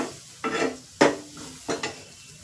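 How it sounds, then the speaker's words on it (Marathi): Potato kachori filling with chaat masala frying in a pan, heard as three quick scraping stirs over a faint sizzle, each stroke short and distinct. "चाट मसाला थोडंसं चटपटी फ्लेवर यावं मस्त हे फ्राय करून घ्यायचं छान"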